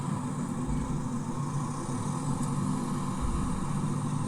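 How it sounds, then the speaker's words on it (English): Street traffic in Berlin, with cars rumbling and idling in a steady, dense wash of low engine noise, heard from a roadside with no distinct voices, a continuous ambient hum throughout. "it's kind of ambient noise, traffic noises, cars, stuff like that"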